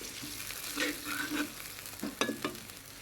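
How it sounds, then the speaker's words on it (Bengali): Chillies and spices sizzle and fry in a pan while being stirred, steady crackling hiss with several scraping stirs and a few sharper knocks, close and without talk. "তারপর আমি এগুলো কষাবো"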